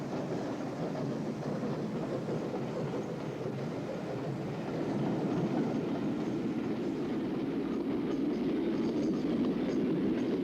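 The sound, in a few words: mixed train with cattle wagons, van and coaches running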